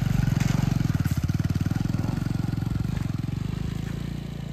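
A motorcycle engine chugs with a fast, steady thumping pulse, close by and fairly loud, easing slightly toward the end; no talking.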